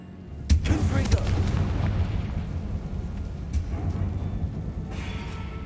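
A Confringo explosive spell blast in the Hogwarts Legacy video game, a sharp booming burst followed by a rumbling decay under game ambience, with a few faint later pops.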